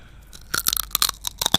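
Crispy pork crackling is bitten right into a microphone, giving a burst of close, loud crunches in quick irregular succession with no talking.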